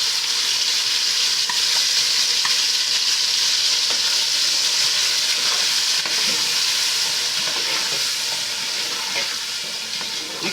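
Leftover stew for jollof rice hisses loudly into a hot pot, a strong, steady sizzle with faint stirring scrapes, close and continuous, easing slightly toward the end.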